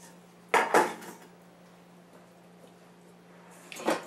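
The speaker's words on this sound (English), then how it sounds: "I'm going to get our cupcake pans ready for us here." Metal cupcake pans clatter in a kitchen while baking is prepared, with two sharp clanks close together near the start, a quiet gap, then another clatter at the end, with no talking.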